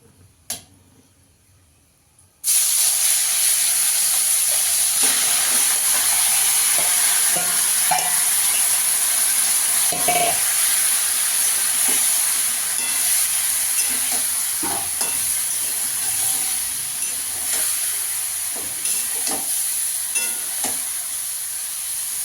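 Kachki fish for chorchori drop into hot oil and set off a sudden, loud, continuous sizzle after a quiet moment. Faint clicks and scrapes of stirring run under the steady hiss.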